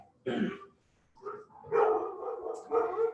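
Several household dogs bark and yip indoors in three short bursts, fairly close and loud.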